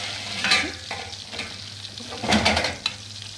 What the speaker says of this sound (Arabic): نضيف له البصل بقى